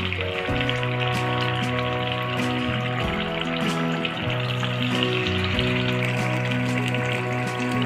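Chicken pieces for hariyali chicken kabab frying in a pan, a steady loud sizzle running continuously throughout with bubbling crackle and no talk.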